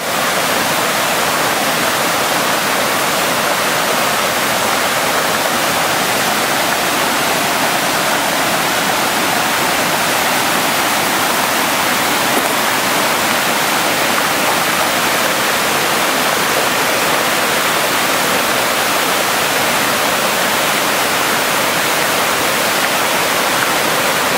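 Rainy-season waterfall roaring with heavy water flow, a loud, dense and unbroken rush of white noise that holds steady throughout with no voices.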